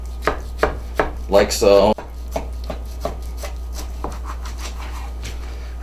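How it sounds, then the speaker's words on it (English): A knife cuts through pork steaks during home butchering, with repeated close slicing and chopping strokes against the board and one short louder scrape. Someone speaks briefly over the cutting. "So we are going to cut our next steak."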